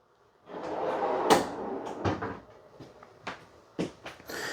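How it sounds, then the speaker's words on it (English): A sliding utensil drawer in a 2025 Forest River Arctic Wolf 3950SUITES fifth wheel, opened or closed with a soft rolling slide followed by several sharp knocks and clicks, close and quiet, without talk. "you also have a sliding kind of utensil drawer here"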